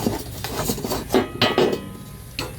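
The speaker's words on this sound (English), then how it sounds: "And you're also going to take off this middle grate right here." A metal middle grate being pulled off a John Deere 950M zero-turn mower's 72-inch deck: a string of close metallic clanks and scrapes, several sharp knocks in quick succession, then a final clunk.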